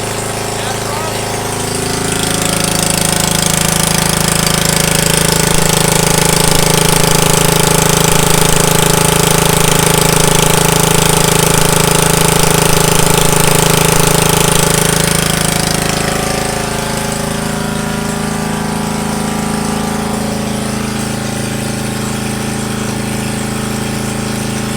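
A lawn mower engine fitted with a homemade muffler runs loudly and steadily, its low throbbing hum rising in level after a couple of seconds and easing slightly toward the end.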